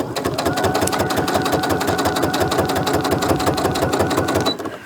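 A sewing machine stitches a crazy quilt block made from fabric crumbs, running in one steady rapid burst of needle strokes at close range and stopping just before the end.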